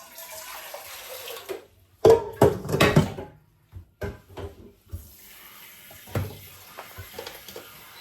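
Water splashing and running from a kitchen tap in short bursts while preparing spaghetti, with clatters and pauses between, close by and fairly loud.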